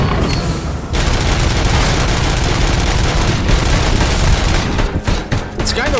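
Loud, dense gunfire in the Robocop Rogue City shooter, a sustained rapid fusillade of shots with brief dips near the end.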